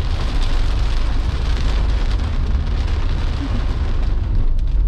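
Heavy rain drums on a car while driving along a toll road, a dense continuous hiss and patter over the low rumble of the moving vehicle, loud and steady with no talking.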